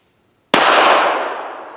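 A single sharp shot from a Ruger LCP Max pistol fitted with an upgraded Galloway Precision trigger, a sudden loud crack out of silence, then a bright ringing decay that fades over a second.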